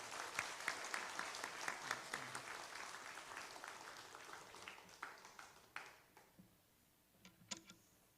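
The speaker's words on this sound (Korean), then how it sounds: "우리 박수로 환영하겠습니다." A church congregation claps in welcome, moderate applause with distinct sharp claps that thin out and fade into scattered individual claps by the end, fairly quiet overall.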